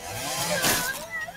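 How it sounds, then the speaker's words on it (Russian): A chainsaw in the survival video game LOST in Blue buzzes with a rough, revving whine that swells and dips, mixed with game noise. "Хорошая бензопила. Мне нравится."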